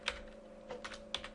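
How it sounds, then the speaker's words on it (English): Typing on a computer keyboard while writing Flash code: a few quiet, uneven key clicks close by, with a low steady hum beneath. "We're going to be typing that a lot right here."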